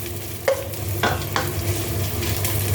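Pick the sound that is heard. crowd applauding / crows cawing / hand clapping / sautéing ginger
sautéing ginger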